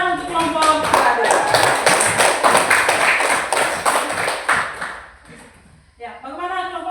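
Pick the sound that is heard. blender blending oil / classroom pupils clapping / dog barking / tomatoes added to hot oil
classroom pupils clapping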